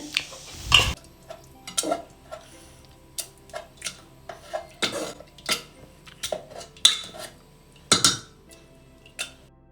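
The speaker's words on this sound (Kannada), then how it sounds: "ಸ್ವಲ್ಪ ಲೈಟಾಗಿ ಈ ಥರ ಸ್ಮ್ಯಾಶ್ ಮಾಡ್ಕೊಳ್ಬೇಕು" Cooked dal being lightly mashed in a pot for Andhra-style dal pappu, with irregular soft taps and utensil clinks against metal close by, spaced across the stretch with no talk.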